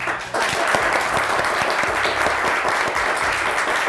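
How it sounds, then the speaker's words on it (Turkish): Teammates burst into dense, steady applause on a Turkish word game show, starting abruptly after a brief quiet moment and continuing evenly at close range. "Ekip arkadaşlarınızdan size bir alkış isteyin"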